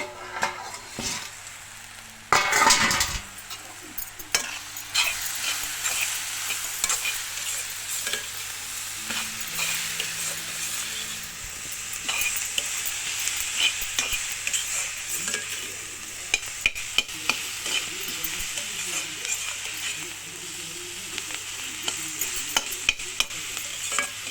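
Mushroom kootu with tomatoes sizzles steadily in a pan while a spoon stirs and scrapes through it, with a sharp clatter near the start and brief clicks of utensil on metal throughout.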